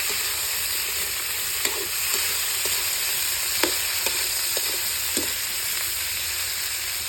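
Tomatoes hit a hot pan with crab and sizzle loudly and steadily, a bright continuous frying hiss with scattered clicks and scrapes of stirring, no talk.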